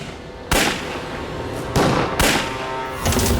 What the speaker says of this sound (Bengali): এ তো গুলির শব্দ